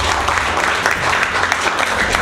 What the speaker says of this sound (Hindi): अमन के लिए ताली बजाइए प्लीज।